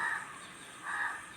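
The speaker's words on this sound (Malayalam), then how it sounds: "ഈ രണ്ട് കാക്കകൾ വന്ന് ഇങ്ങനെ ഇരുന്ന്" Two crows caw faintly in a house yard by a mango tree, two short harsh calls spaced about a second apart over a quiet outdoor background.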